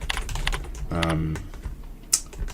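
Someone types code on a computer keyboard in short clustered bursts of clicks around a stretch of speech, with a sharper keystroke near the end.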